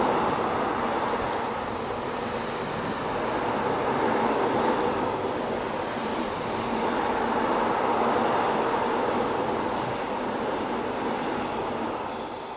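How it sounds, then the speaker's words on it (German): A train rumbles past nearby in a steady, broad roar that swells and fades gently over about thirteen seconds, with faint rail clatter and no talking. "bis der Zug vorbei ist"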